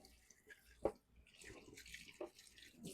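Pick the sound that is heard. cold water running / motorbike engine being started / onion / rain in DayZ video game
cold water running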